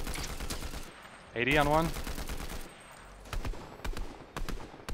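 Rapid assault rifle fire in a first-person shooter game, with loud bursts of gunshots and in-game effects, and players talking over the shooting.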